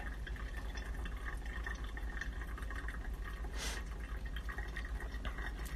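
Hot water poured over a bed of ground coffee in a pour-over brewer, a steady close trickle and splash running throughout with no talk.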